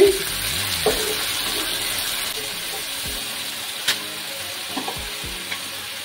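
Slit green chillies fry in hot oil in a pan over a lowered flame, a soft continuous sizzle with a few faint clinks and stirring knocks.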